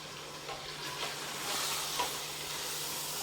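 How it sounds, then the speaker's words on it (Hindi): Spices for chicken daleem fry and sizzle in a pot while a spoon stirs through them, a steady close hiss broken by light scraping strokes, with no speech. "तकरीबन 5 से 6 मिनट तक मसाले भूनेंगे।"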